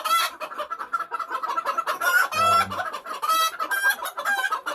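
A red jungle fowl rooster clucks repeatedly up close in short, agitated bursts while being held, with a few louder squawks mixed in and no talking.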